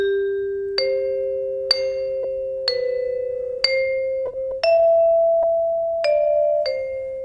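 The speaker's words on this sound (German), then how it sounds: "Ja, Vibraphon, genau, das haben wir ja auch noch. Ist auch mit nochmal anderen Schlägeln." Vibraphone struck with soft mallets, a slow series of clear ringing notes that sustain and overlap, close and alone in a quiet room.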